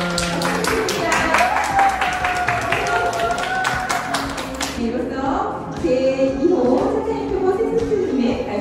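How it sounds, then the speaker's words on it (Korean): An audience claps at a charity donation handover for about five seconds, a loud, rhythmic burst of hands, then the clapping stops and voices talk. "큰 박수 부탁드립니다."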